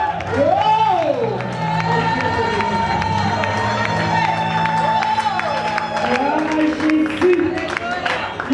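A church congregation at a women's month closing service in Kinshasa erupts in cheering and whooping to acclaim God, a loud sustained crowd roar with rising shouts and music underneath.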